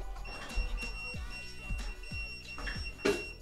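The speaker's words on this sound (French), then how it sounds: "Comme vous avez pu l'entendre, la trottinette bip assez fort et assez bien." A Xiaomi electric scooter's anti-theft alarm beeps when the parked scooter is moved, sounding as a series of short electronic tones over a steady background hum, ending in one sharper, louder burst.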